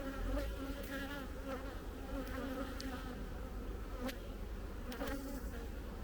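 Honeybees swarm thickly around an open hive of a colony close to swarming, giving a dense, steady buzzing drone that stays close and fairly loud throughout, with no talking.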